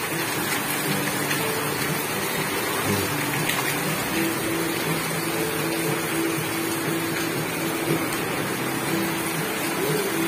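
Heavy typhoon rain pours down on a small farm in a steady, dense hiss, with a faint low hum running underneath throughout.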